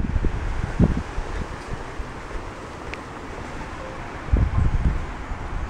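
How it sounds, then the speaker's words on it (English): A breezy outdoor wind gusts past, a steady rushing hiss with a few louder buffets against the microphone, continuous and close with no talking. "Breezy out today."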